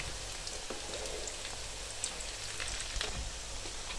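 Egg bread donuts frying in hot oil give a steady, dense sizzle with scattered pops and crackles, continuous and fairly close, with no voices over it.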